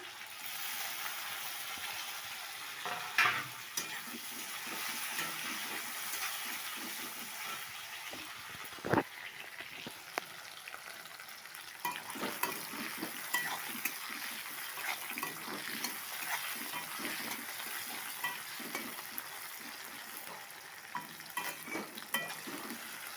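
Spices and tomato fry quietly in a pan with a soft, continuous sizzle, broken by occasional stirring scrapes and light clatters, close by and with no talk.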